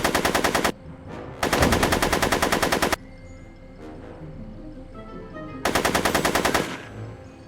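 Video game gunfire in Back to the Future: The Game, three loud bursts of rapid automatic shots separated by quieter pauses with faint background sound.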